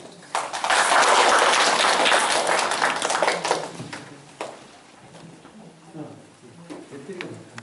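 A burst of lecture audience applause in Korea swells quickly, holds for a few seconds, then fades into scattered claps and murmuring.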